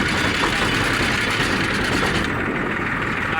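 A tractor engine runs steadily with a plough attached, at a farm. The rumble is loud, close and constant, with no voices.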